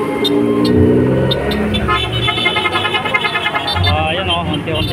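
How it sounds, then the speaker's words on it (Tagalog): Car horns honk repeatedly amid traffic and a crowd at an EDSA Monument prayer rally, with a person talking over the din close by. "nakikisimpatiya yung busina yung ating mga kababayan na napadaan"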